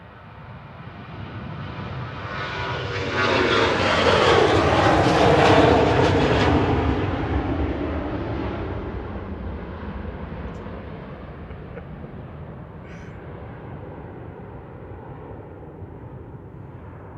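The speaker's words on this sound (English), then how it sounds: "Ryanair heading to Bratislava with Flight 34, operated by a 737-800" Ryanair Boeing 737-800 jet roaring past at Manchester Airport, engine noise swelling to a loud peak mid-pass and then easing into a long fading rumble.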